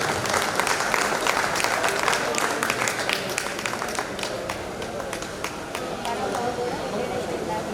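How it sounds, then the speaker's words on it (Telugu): A hall full of people at a retirement function applauds continuously, dense overlapping claps with sharper individual hand strikes standing out, steady and loud for several seconds. "చప్పట్లు కొట్టండి అందరూ ఒకేసారి"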